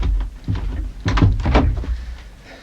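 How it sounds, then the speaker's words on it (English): A door, in a radio crime drama, is opened with a few dull knocks and a handle-like clunk among shuffling, bumping movement, fairly close and moderately loud, with no voices. "come on, open the door"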